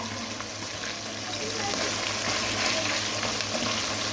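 Mutton kadai with ginger, garlic and spices sizzles and fries steadily in a pan while being stirred, a continuous close crackle with no talk.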